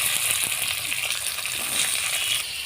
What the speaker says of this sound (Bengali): এবার বিনস কড়াইটা আমি তেলে দিয়ে দিচ্ছি।